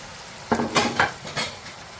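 Chicken wings tossed and stirred into a thick sauce in a pan, a few close clattering scrapes and wet knocks of a utensil against the pan in quick succession.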